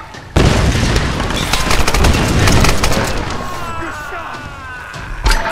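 A grenade launcher explosion in the Tomb Raider video game gives a sudden loud boom with rumbling debris that decays over several seconds, followed by a second sharp impact near the end.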